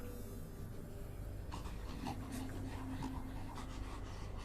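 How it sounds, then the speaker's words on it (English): Heavy, creepy breathing and panting close behind the player in the horror video game Death Mark, rising in steady rhythmic puffs over a low droning rumble, with no talking. "hear creepy breathing behind me"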